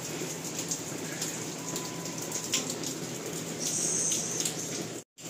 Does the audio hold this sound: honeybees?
no